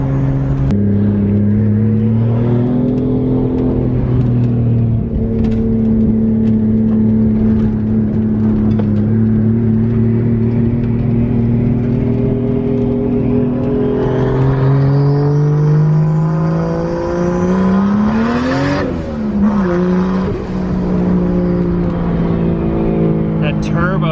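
A Nissan 240SX with a swapped 2JZ engine and anti-lag pulls hard under acceleration, its loud, steady engine note rising in pitch and holding close throughout, with a brief dip and shift near the end.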